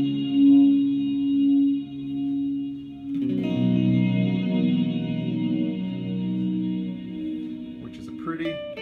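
Ambient guitar pad through the space hole effect of a Zoom MS pedal: sustained chorused, echoing tones swell and shift, then thicken into a brighter shimmering wash with faint pitch sweeps near the end, alone and moderately quiet.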